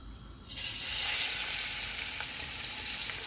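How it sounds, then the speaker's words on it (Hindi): Chopped onions hit hot oil in a pot for a degi beef pulao, bursting into a loud, steady, close sizzle that starts abruptly and holds alone without talk. "ऑयल गर्म हो गया, इसमें प्याज डालेंगे।"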